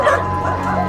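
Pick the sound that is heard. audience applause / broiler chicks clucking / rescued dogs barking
rescued dogs barking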